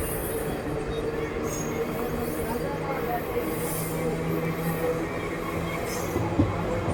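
Aboard the Sai Nagar Shirdi Express as it slowly gathers speed, a steady rolling rumble and wheel noise with occasional metallic squeals, fairly close and continuous, with a voice faintly present at times.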